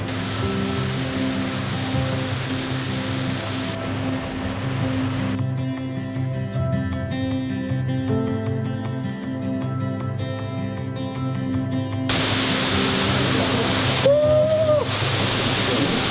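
A steady, loud roar of Fall Creek Falls waterfall near Jasper, Georgia fills the whole stretch, broadband and constant, with a brief whistle-like tone near the end.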